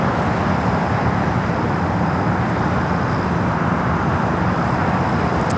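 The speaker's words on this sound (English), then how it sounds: "787-9 Dreamliner will be the next takeoff in 25 right." A United 787-9 Dreamliner takes off from runway 25 right at LAX, bound for Newark, its jet engines making a loud, steady broadband roar that holds without a break throughout.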